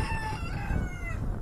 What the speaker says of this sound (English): A rooster's crows are a common sound at Kaiser High School